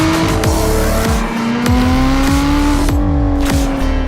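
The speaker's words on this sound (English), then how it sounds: "sport button, let's let that V6 sing." A Lotus V6 in sport mode revs hard on a Virginia race track, close and loud, its engine note climbing and holding through repeated gearshifts with brief dips between pulls.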